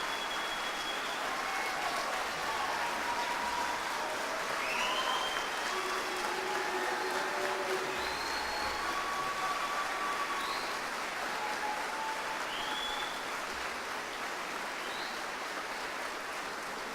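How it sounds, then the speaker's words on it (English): Sustained applause from a graduation audience for soldiers of an Army Bravo Battery platoon, a steady, even patter of clapping throughout with no pause, fairly distant and moderate in level. "Please give all the soldiers of Bravo Battery a round of applause."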